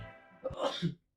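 A single sneeze, close and fairly loud, with a sharp burst of breath followed by a short voiced tail, then silence.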